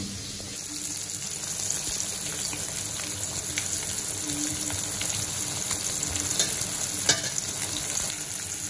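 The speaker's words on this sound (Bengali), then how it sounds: "মাছ আমার মনে হইতেছে 1 পাশটা ভাজা হয়ে গেছে, এখন উল্টে দিব" Hilsa fish pieces fry in hot oil in a pan, a dense continuous sizzle and crackle up close with occasional utensil scrapes, no talking over it.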